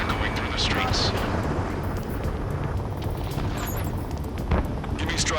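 Aerial combat in Ace Combat 7 over a city under martial law: a continuous heavy jet roar with bursts of gunfire and booming impacts cutting through, loud and rumbling throughout.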